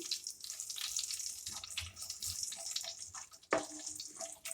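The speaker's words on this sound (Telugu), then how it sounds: "ఈ వెల్లుల్లి ఈ ఆయిల్లో మంచిగా ఫ్రై అయిపోతుందండి." Crushed garlic and curry leaves frying in oil for a spicy tomato and dried red chilli chutney, a steady close crackle with brief scraping stirs and one sharp clatter near the end.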